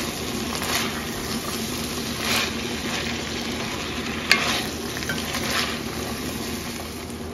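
Chicken being reheated and stirred in a pan for a pot pie filling, with soft continuous sizzling and occasional scraping stirs, one sharper clink near the middle, quiet and close.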